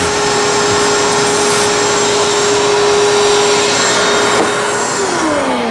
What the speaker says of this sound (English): Just need to vacuum it a bit here. And vacuum over. Trying to clear out some of these chips